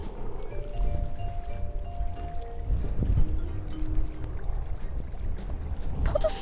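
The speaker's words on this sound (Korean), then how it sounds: "바람이 날 가라고 민다" Wind buffets a small boat on a waterway during bass fishing, giving a steady low rumble of wind noise with faint creaks and water sounds and one brief sharp knock near the end.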